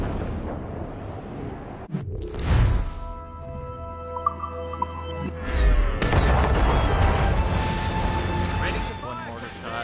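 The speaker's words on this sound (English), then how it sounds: "One mortar shot." Mortar fired from a ship in Assassin's Creed Rogue gives a deep booming blast with a crashing impact, followed by lingering rumble, in-game music tones and another heavy thud, with a voice talking over the battle.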